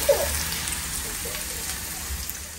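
Red onion hitting a hot pan in a home kitchen, giving a faint, steady sizzle that starts with a brief crackle and carries on quietly throughout.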